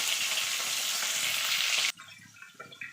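Cauliflower fries in oil with a loud, bright sizzle that suddenly drops to a quieter crackle as the heat eases, followed by a few light clinks of a utensil.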